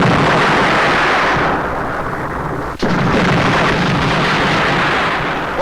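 A bomb explosion in a Bollywood action film: a loud, sustained roaring blast with a sharp crack near the middle, and no talk over it.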